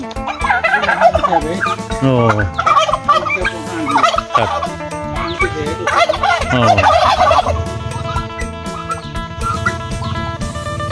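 Geese kept on a small farm with ducks and chickens give loud, repeated honking calls in overlapping bursts throughout, close by, with a man briefly exclaiming.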